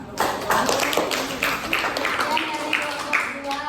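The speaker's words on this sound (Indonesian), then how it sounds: "Kelompok 2 boleh tepuk tangan?" A classroom of students claps for a presenting group, several short bursts of hand claps in an uneven rhythm, nearby and fairly clear with background voices.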